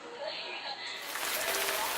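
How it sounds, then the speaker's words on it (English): Pho broth is poured over meat and noodles in a bowl, a loud rushing splash that starts midway after a quieter stretch, with people talking. "You hear the music, the broth hitting the meat, the noodles."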